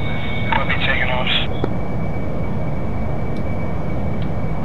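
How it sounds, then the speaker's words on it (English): An aircraft taking off in the DCS World flight simulator, a steady loud engine drone with a high whine, joined early on by brief chirps and radio-like tones, with someone talking over it. "That was a bad takeoff."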